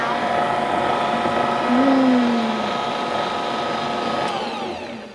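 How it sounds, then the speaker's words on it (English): An electric mixer beats egg into lemon shortbread cookie dough with a steady, whirring motor hum that rises slightly in pitch midway and then settles, loud and close, with no talking. "So now I'm gonna start mixing again."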